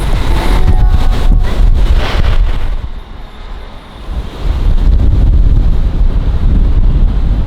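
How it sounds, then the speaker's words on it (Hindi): Strong wind buffets the microphone outdoors in Egypt with dust blowing, a loud roaring rush that dips briefly in the middle before gusting hard again. "इतनी ज़्यादा इस टाइम तेज़ हवा और मिट्टी उड़ रही है यहाँ पे"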